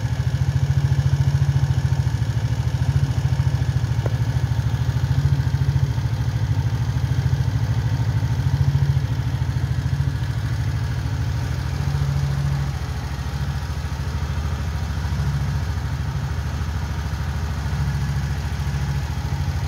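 A Suzuki Burgman 125 scooter with about 61,000 km on it rides along a road, its engine holding a steady drone with mild fluctuations and wind rush, no talking.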